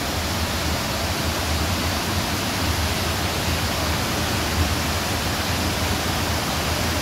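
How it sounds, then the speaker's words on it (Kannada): A waterfall beside a closed restaurant roars in a dense, constant rush of falling water, loud and unbroken from start to finish with no voices. "ನೋಡಿ ಎಷ್ಟು ಚೆನ್ನಾಗಿದೆ ಫಾಲ್ಸು."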